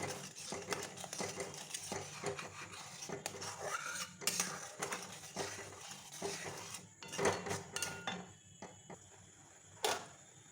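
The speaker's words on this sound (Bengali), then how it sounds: "এবার নাড়তে থাকবো এটাকে ক্রমাগত" A utensil repeatedly scrapes and clinks against a pan as sugar is stirred into chhena for sandesh. The stirring taps and scrapes come in an irregular rhythm, close and fairly quiet, with no talking.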